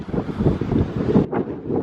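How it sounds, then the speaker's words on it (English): Strong gusts of wind at Bamburgh Castle buffet the microphone, roaring and rumbling in uneven surges throughout. "Windy, really windy."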